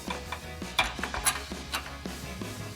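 A ratchet tightens the rear bolt while a bull bar is mounted on a 2024 to 2026 Toyota Tacoma truck, giving quick, close, repeated metallic clicks in short bursts with no talking.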